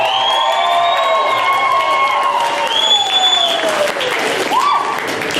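A loud comedy club audience cheers, whoops and applauds continuously, with shouts and whistles rising over a dense wash of clapping.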